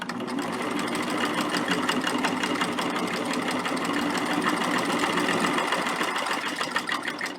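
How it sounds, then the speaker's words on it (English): A sewing machine stitches quilt binding through a double fold bias binder foot on a slightly wobbly plastic table, a steady moderate-speed mechanical whirr with rapid needle clatter, close and continuous throughout. "what I'm going to do is, again, just put it in, hold the end and stitch."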